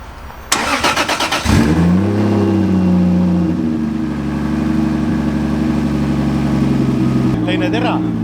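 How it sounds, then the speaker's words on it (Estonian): A Toyota 2JZ engine swapped into a Nissan 350Z cranks briefly, catches and settles into a loud, steady, deep idle with small revs, ending in a sharp rev; voices are present. "Paneme käima uuesti, vaadake, kui hästi nüüd käib."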